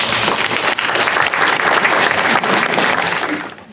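An audience at an international theological symposium on the Asian church applauds a priest called up to give his response, with loud, dense clapping that fades out toward the end.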